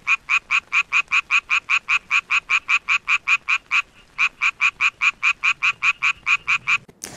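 A healthy frog's mating call, uninfected by fungus: a long, steady series of rapid, evenly spaced croaks, loud and close, with one brief pause partway through.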